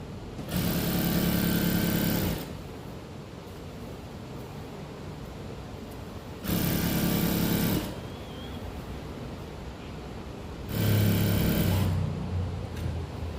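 A sewing machine runs in three loud, steady bursts, stitching a fold on salwar fabric before elastic goes in, with quiet pauses between the runs.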